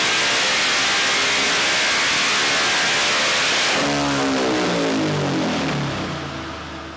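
KTM 690 SMCR motorcycle engine on a dyno held at full throttle, a loud sustained roar that steps up in pitch partway through before easing off at the end.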